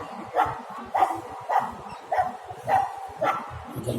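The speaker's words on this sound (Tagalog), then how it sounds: "Maganda ng mga aso din." Several dogs bark in a repeated pattern of six sharp barks spaced about half a second apart, fairly close and loud over low background clatter.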